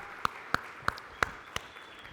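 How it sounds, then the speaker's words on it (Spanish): Five sharp hand claps ring out at an even, deliberate pace during a church lesson, each crisp and distinct against a quiet room. "Dale fuerte esa ofrenda de palmas mientras tomas tu lugar."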